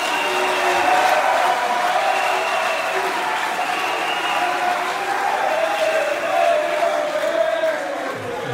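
A crowd at a Congolese political rally applauds a man just released from prison, a steady, dense wash of clapping mixed with cheering voices that holds loud for the whole stretch.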